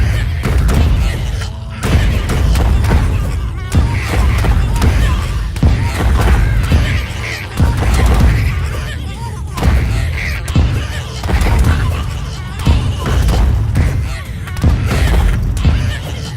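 Grenade explosions in the Terraria video game, a dense run of low booms and thuds repeating every second or two over loud, continuous game noise.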